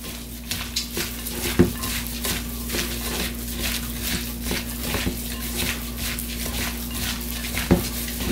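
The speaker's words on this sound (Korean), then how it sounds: "무쳐주겠습니다." Korean radish salad is mixed by hand in a bowl, making a continuous wet, squelching rustle with a regular rhythm and occasional soft knocks against the bowl, close and fairly loud, with no talking.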